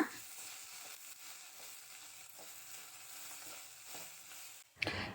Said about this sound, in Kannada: ಅದಕ್ಕೆ ಕೊತ್ತಂಬರಿ ಸೊಪ್ಪು ಮತ್ತು ಪುದೀನ ಸೊಪ್ಪು ಹಾಕಿ ಇನ್ನೂ ಸ್ವಲ್ಪ ಫ್ರೈ ಮಾಡ್ಕೊಳ್ಳೋಣ